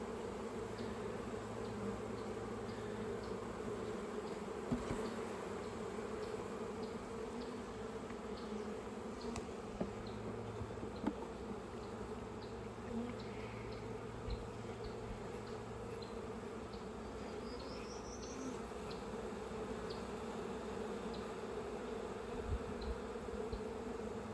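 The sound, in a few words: bees buzzing during a beehive inspection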